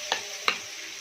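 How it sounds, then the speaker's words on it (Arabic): Egyptian rice is stirred in hot oil in a pot, two quick scraping strokes over a continuous close, loud sizzle. "بعد ما حطيت الرز هشوح فيه"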